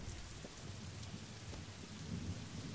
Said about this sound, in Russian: Тут немножко пасмурно. Дождик моросит. Чуть-чуть.